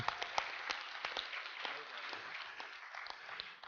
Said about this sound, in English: we should just give the global audience a quick round of applause